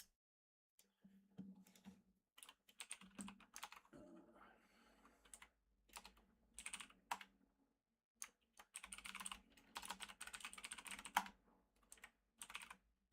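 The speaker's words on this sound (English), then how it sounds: "I start typing really fast." Fast typing on a computer keyboard in a workshop: dense, uneven bursts of key clatter with brief pauses between runs, close and fairly quiet. No one speaks.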